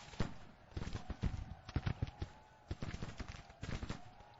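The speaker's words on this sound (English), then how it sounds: "Now they're taking flanking fire." Flanking musket gunfire in a Grand Tactician Civil War battle from the 1861 Confederate campaign: clusters of sharp irregular cracks and pops, some close together like volleys, fairly loud, over a steady hiss of battlefield noise.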